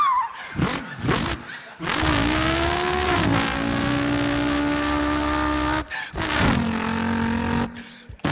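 A man vocally imitates a V8 car engine, building revving, roaring tones with rising and falling pitch in several loud bursts separated by brief pauses, close to the listener.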